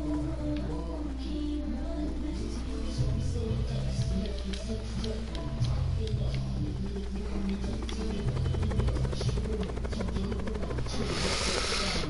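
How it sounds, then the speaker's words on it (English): A helicopter's rotor thumps and engine drone fill the scene steadily at close range in Call of Duty: Black Ops, with faint game sounds and occasional muffled voices underneath. "Wow, I can fly a helicopter."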